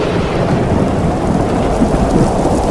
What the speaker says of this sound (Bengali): ঝড় বৃষ্টির যেন আর শেষ নেই